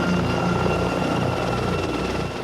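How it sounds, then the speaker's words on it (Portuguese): An Apache attack helicopter thrums loudly and steadily in a short, close burst of rotor and engine noise with no voices. "foi projetado um novo helicóptero de combate, o Apache"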